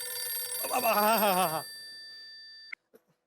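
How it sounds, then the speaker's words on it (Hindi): A telephone rings with a steady electronic tone while a voice talks briefly over it, then the ringing cuts off with a click. "ओ घंटी बज रही है, पप्पू फोन चेक कर।"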